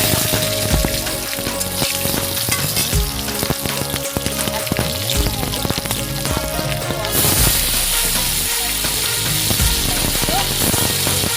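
Green chillies frying in hot oil alongside garlic, a busy continuous crackle and spatter with stirring scrapes, close and steady, brightening partway through as the sizzle intensifies.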